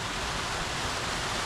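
A hillside waterfall on a Peak District hike pours in a steady, full rush of broadband water noise, close and constant, with no voices over it.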